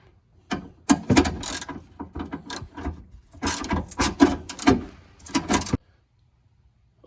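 Ratchet working the three mounting bolts of a fog light on a 2008 Dodge Ram, with bursts of quick clicking and metallic rattles separated by pauses, close up, with no talk.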